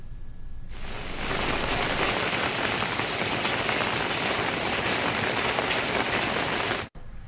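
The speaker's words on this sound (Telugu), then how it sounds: "ఉదయం నుంచి ఓ మోస్తరు వర్షం పడుతోంది." Moderate rain pours steadily over flooded roads and junctions in Yanam, a dense, continuous hiss starting abruptly after a quiet moment and holding loud and even throughout, briefly cutting out near the end.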